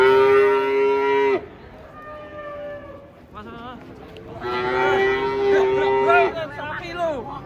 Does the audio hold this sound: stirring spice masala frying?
no